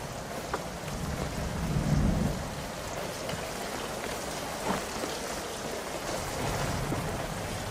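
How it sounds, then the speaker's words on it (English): Steady heavy rain falling in Italy, a dense continuous hiss of drops on surfaces with a low rumble swelling briefly near the start, no talk. "this is Italian rain"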